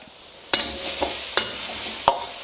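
Chopped shallots and garlic (Chinese garlic) frying in hot oil in a pan, a steady close sizzle with several sharp stirring clacks at regular intervals, no talk.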